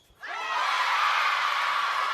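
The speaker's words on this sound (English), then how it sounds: "I was waiting for the crowd to quieten down." Table tennis crowd at a WTT Champions event in Incheon erupts into loud, sustained cheering and screaming, with whoops rising sharply at the start and holding steady without letup.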